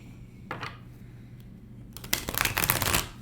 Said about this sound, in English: I'll sometimes shuffle the cards